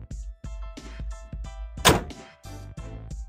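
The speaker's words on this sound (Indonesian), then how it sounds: "Kita tutup sekarang kap mesinnya ya." Hood of a Mazda 2 Skyactiv 1.5 shutting with a single loud thunk near the middle, surrounded by faint handling knocks and rustles close by.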